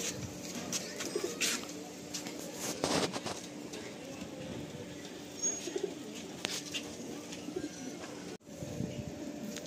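Madrasi pigeons coo in soft, low repeated calls throughout, set against a steady background hum with a few brief louder bursts.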